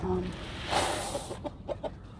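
Chickens cluck in short, scattered bursts nearby, a few soft calls and clucks over a low background.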